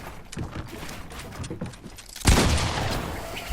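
Fortnite gunfire: a few muffled shots and clicks, then a sudden loud blast that holds as a dense burst of rapid fire.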